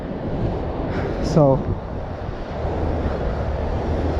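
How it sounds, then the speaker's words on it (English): Broadband wind rushes steadily past the microphone at Niagara Falls in cold weather, with a single short spoken word midway. "It's a bit windy."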